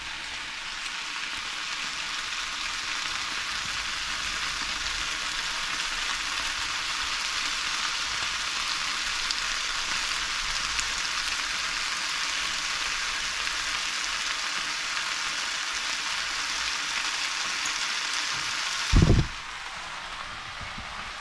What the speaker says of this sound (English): Now add in sauce.